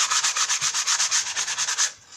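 Sandpaper wrapped around a block rubs briskly back and forth over a wooden craft piece, about fifteen even, close rasping strokes in quick rhythm before stopping, with no talking.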